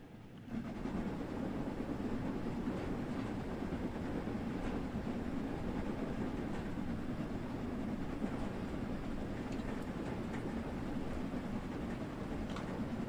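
A steam-hauled train rolls on a down gradient, its rumble steady and moderately loud with faint rhythmic rail clicks running underneath, no voices heard.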